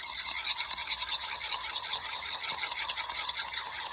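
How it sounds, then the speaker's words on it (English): A spoon stirs egg yolks mixed with hot sauce, making steady rapid scraping and swishing against the bowl at close range, loud and continuous with a quick rhythmic pulse. "Now we're just going to stir it up."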